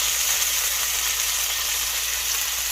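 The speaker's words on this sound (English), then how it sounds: "We done with most of the sizzle, which lets me know this bacon's about good enough for me." Bacon sizzles and crackles steadily in a pan, a dense, close hiss with no voices.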